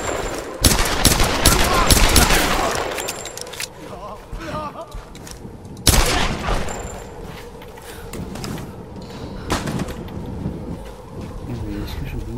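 Bursts of automatic gunfire in a video game, loud volleys that come in two main clusters separated by quieter gaps, with a few scattered single shots and a voice speaking over parts of it.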